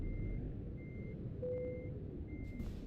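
Truck reversing alarm in Nordic Horizons, a work-in-progress truck driving game: steady evenly spaced beeps over a constant low engine rumble, with one brief lower tone partway through.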